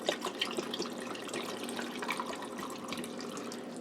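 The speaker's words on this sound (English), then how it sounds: "and now we're going to fill them with water." Water pours steadily into canning jars packed with potatoes, a continuous close splashing and trickling that fills the short span with no voices.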